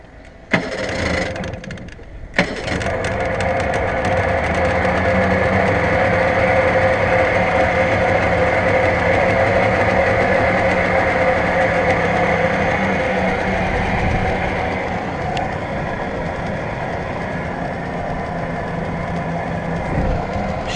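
Cold start of an Avon Searider boat engine: a few cranking bursts, then the motor catches and settles into a loud, steady running drone close by, easing slightly toward the end.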